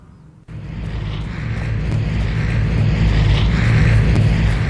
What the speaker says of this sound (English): So we hear the plane coming in.